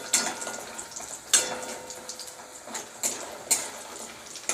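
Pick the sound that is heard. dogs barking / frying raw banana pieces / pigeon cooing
frying raw banana pieces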